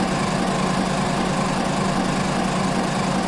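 Formula 1 car engines roar together at the start of the Hungarian Grand Prix in the F1 2016 video game, a loud, dense, unbroken engine drone that holds steady throughout with no talk.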